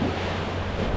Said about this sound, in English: the water actually runs underneath, so you can actually see and you can hear it